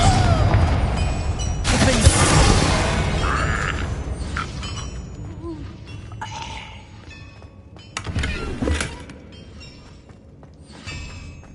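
A Confringo explosion spell in the video game Hogwarts Legacy bursts with a loud boom early on, followed by mechanical clanks, creaks and a later thump amid game effects and a shouted voice.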